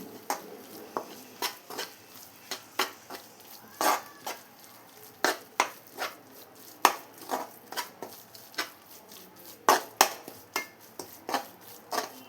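Spatula clinking and scraping against a pan while a spice mix for beef curry is sautéed, with irregular sharp taps repeating throughout and no voices.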